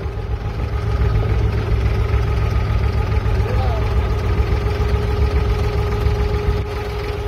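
A modern tour boat's engine runs steadily on Dubai Creek, a constant mid-low drone heard close by, with people talking over it at times.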